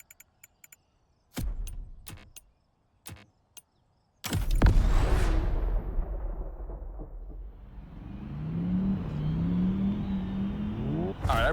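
The Hoonicorn, a Ford Mustang gymkhana car, in The Crew Motorfest: a few clicks and short mechanical blips, then the engine fires up with a loud roar and a sustained rev, then fluctuating high revs up close.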